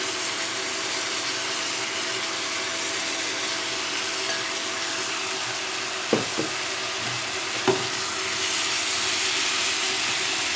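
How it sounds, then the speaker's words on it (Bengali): Broccoli tipped into a hot pan, a steady broadband sizzle of frying with a couple of sharp knocks and clatters partway through, no voices. "এবার ব্রোকলিগুলোকে আমি এতে ঢেলে দিচ্ছি"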